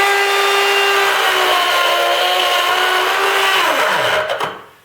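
A rotary burr bit spins up and bores into a hole in wood while a woodworking vise is being made, a loud, steady high-pitched whine that holds for about four seconds before winding down and cutting off.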